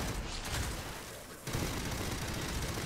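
Rapid automatic weapon fire in the shooter game Aliens: Fireteam Elite rattles in dense, continuous bursts, with a short lull before the shooting resumes.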